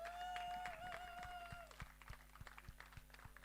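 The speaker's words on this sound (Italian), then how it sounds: "Fatele anche applauso alla nostra conduttrice di questa sera, Samantha." An audience at an outdoor science event in Carbonia gives the evening's host a round of applause: scattered, moderately loud clapping that thins to a few separate claps, with a voice briefly at the start.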